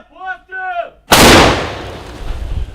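A single heavy artillery blast on a war front line bursts out loud and close after a brief moment of talk, then rolls away in a long rumbling decay.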